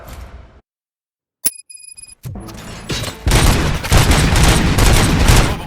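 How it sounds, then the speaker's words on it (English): Gunfire in the video game Robocop Rogue City: a lone sharp crack after a brief silence, then a dense, loud, sustained burst of rapid shots and impacts building through the second half, with no voices. "Gunshots? What's going on?"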